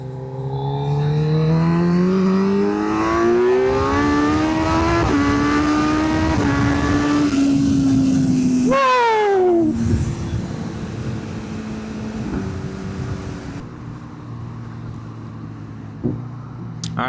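Kawasaki Z900 SE motorcycle on a mountain loop run, its engine revving up through the gears with rising whine, a shift, then easing off where brief exhaust pops crackle near the end, close and loud.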